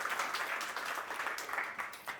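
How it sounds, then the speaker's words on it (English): Applause from an audience at a corporate event honouring a print-on-demand supplier, a brief patter of many hands at moderate distance, fairly faint but steady throughout. "Maybe let's give a round of applause to that."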